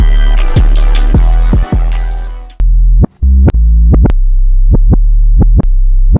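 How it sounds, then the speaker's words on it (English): In a hip-hop beat, a deep, booming 808 bass pattern throbs loud and close, with sharp punchy hits in a steady rhythm. A short dropout breaks the pattern midway. "Now let's flesh out that 808 pattern."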